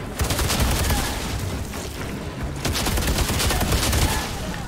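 Sustained automatic gunfire and bursts of shooting in the Outriders video game, dense and loud throughout with no pauses, a heavy fusillade of rapid shots.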